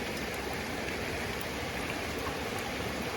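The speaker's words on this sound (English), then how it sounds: "I guess this is maybe sleet or something" Sleet falling outdoors in winter, a soft, even hiss of fine icy pellets pattering continuously and faintly across the ground with no other sounds.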